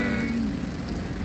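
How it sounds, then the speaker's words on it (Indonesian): Light drizzle falling on a roadside in Aceh Besar during holiday homecoming traffic, a steady soft hiss of rain close by with a low rumble underneath, no voices. "Jadi kondisinya ada hujan gerimis."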